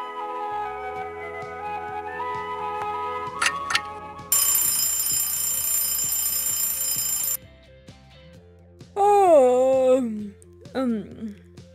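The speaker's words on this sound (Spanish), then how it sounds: "¿Por qué pusimos la alarma tan temprano?" Alarm clock ringing in a cartoon, a bright sustained electronic ring lasting a few seconds over a simple musical background, followed by exaggerated swooping cartoon sound effects.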